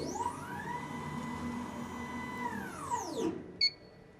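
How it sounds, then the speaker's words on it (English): Laser cutter work table lowering: a steady motor whir with a rising then falling mechanical tone that runs for about three seconds and stops abruptly, followed by a short click and a faint high electronic beep. "To do this, you want to move your work table down."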